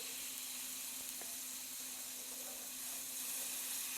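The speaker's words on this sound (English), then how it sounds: "straight away they start to fry and you can hear the sizzle" Onions begin frying in a hot pan for tomato and roasted red pepper soup, giving a steady close sizzle and hiss that holds evenly throughout with no talk.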